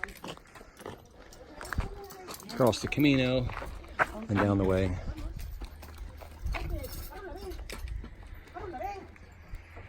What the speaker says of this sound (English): All right, time to get the cows out of the house.